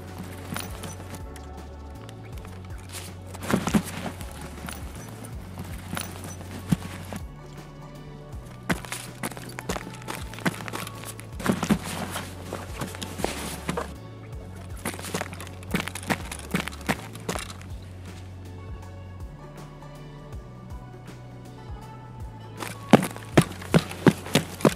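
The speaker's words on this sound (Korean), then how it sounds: "이 친구가 지금 내 발소리 듣고 있는 걸까요?" Footsteps in the Escape From Tarkov shooter game, a repeated irregular patter of steps over a low in-game ambient drone, with a quicker run of impacts near the end.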